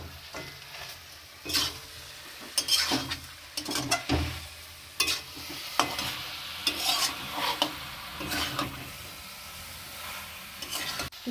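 Chicken pieces are stir-fried with spices in a pan for a home chicken curry, giving a steady soft sizzle broken by repeated scraping and clanking strokes of a spoon against the metal, close and without talk.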